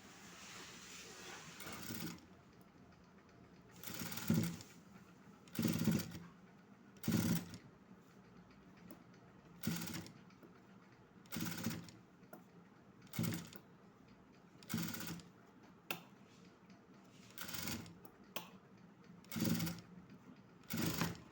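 A sewing machine stitching cloth for a blouse neckline runs in short, faint bursts separated by quiet pauses, about a dozen runs in total.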